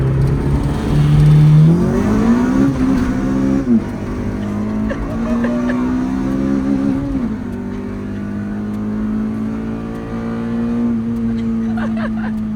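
A Honda CRX engine roars loudly up close, revving hard in first and second gear, its pitch climbing and then dropping at each gear change as it accelerates on a San Francisco street.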